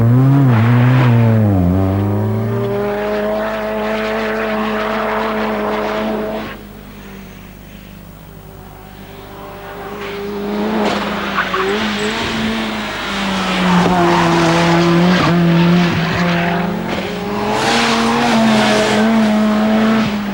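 A Group A racing car on a track sounds loud and close, its engine climbing through the gears with rising pitch, dropping back, then revving and shifting again in repeated sweeps.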